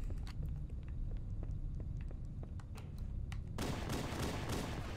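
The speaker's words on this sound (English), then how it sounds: "those shots were crisp" Gunfire rings out in the video game Halo MCC as sharp, crisp single shots crack at irregular intervals over a low rumble, followed by a denser, noisier burst of firing near the end.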